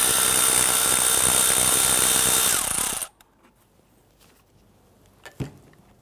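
A 10mm bolt being loosened from a bracket on the engine torque strut mount of a 2011-2017 Nissan Quest 3.5L V6, a loud, close power ratchet whir for three seconds, then quiet with faint handling clicks and one brief knock.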